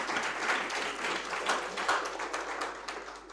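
An audience at a maritime knowledge-series seminar on ship leasing and chartering claps for a guest, a dense, even patter of many hands holding steady throughout.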